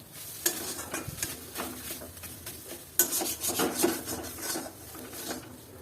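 Taro frying in a wok with little oil, turned with a utensil: irregular scraping and stirring strokes over a soft sizzle, fairly quiet and close, with no talking.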